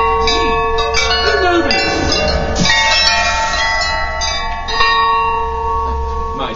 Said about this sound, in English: ring that bell, but just once.